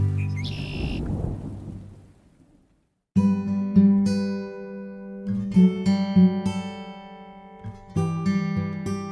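A deep rolling thunder rumble from a thunderstorm swells and fades over a couple of seconds, followed after a brief silence by bright, sustained tonal chimes.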